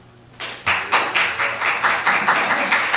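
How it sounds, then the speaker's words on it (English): Steady clapping in a council meeting chamber, rising suddenly and then continuing as a fairly loud, even run of claps that sound like a small audience applauding. "You can quit clapping."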